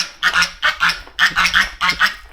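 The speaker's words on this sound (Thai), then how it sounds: "เลี้ยงห่านอีกเนาะ" Geese honking nearby on a rural Lao farm, four loud bursts of raspy calls spaced about half a second apart, each a quick cluster of overlapping honks, with no talking.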